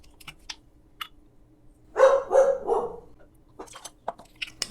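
A dog barks a few times in a quick burst, fairly close, between light clicking and tapping sounds in a quiet room.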